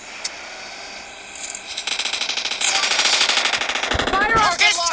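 Rapid automatic gunfire in the video game PUBG Mobile builds from scattered shots into sustained bursts, loud and close, with a voice speaking over the firing.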